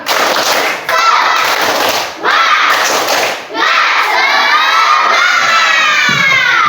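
Classroom of elementary school children shouting a rhythmic 'tepuk semangat' clapping chant together, loud and continuous with crowd-like voices, a couple of brief dips between repetitions.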